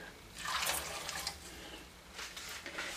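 Hot water pours and splashes into a cooking pot in two short bursts, a brief gushing flow, then a pause, then another pour.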